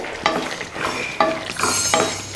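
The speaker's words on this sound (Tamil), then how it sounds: "போட்டு நல்லா மிக்ஸ் பண்ணி விட்டுட்டு" A spoon stirs mushroom gravy with crushed kasuri methi in a pan, producing close scraping strokes at a steady pace over a soft background sizzle.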